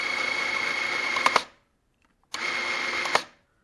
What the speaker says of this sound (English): It's coming back up and it's spooling in the other cartridge.